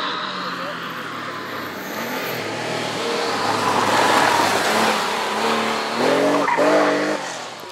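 A 1985 Porsche Carrera 3.2 rally car at a historic rally near Estoril, its engine roaring and tyres scrabbling as it drives past, loud and building to a peak with gear-shift steps near the end, a commentator talking over it.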